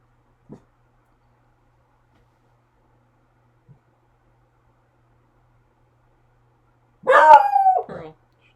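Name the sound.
dog Pearl barking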